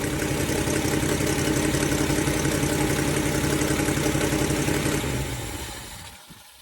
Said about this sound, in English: Wow, what an exhaust leak I got now.